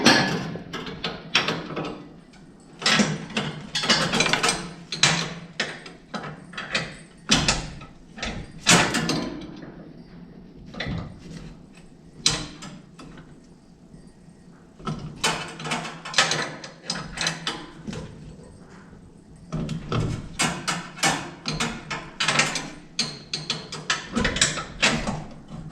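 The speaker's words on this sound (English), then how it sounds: "I think I need a shorter wrench for this one" A wrench clicks and ratchets on bolts while a power brake booster is fitted to a Coyote-swapped Dodge Challenger, dense bursts of metallic clatter and scraping close up, with brief pauses between turns.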